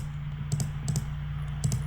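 Keys clicking on a computer keyboard while text is typed into a PowerPoint text box, a few short bursts of taps over a steady low hum, close and clear.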